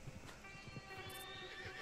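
A horse whinnies in the open-world Western video game Red Dead Redemption 2, a short, faint neigh heard alone. Soft hoof clip-clops come and go underneath it.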